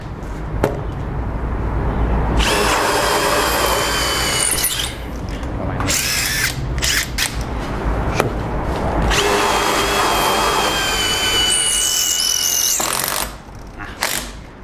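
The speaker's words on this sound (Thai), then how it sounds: "ข้อดี ของการใช้ไขควงกระแทกเจาะก็คือมันจะเสียงเงียบนะครับ" An impact driver fitted with an Onishi drill bit whirs and rattles in two long bursts into a house wall, loud and close, with short mechanical clicks and pauses between runs.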